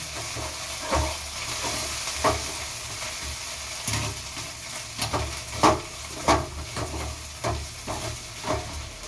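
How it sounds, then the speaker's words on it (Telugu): Ginger paste fries in a pan while being stirred for a homemade chicken curry: a constant soft sizzle with repeated scraping strokes of the spoon at an irregular rhythm, close by. "అల్లం పేస్ట్ అయితే మంచిగా వేగేంత సేపు అయితే కలుపుకోండి."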